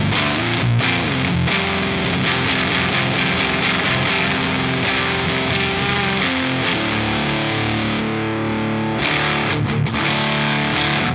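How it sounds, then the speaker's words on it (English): Electric guitar driven through a Fuzz Imp Furia distortion pedal, loud and saturated with dense sustained chords and riffs, playing continuously with brief gaps near the start and around the eighth second. "That is a sick distortion pedal."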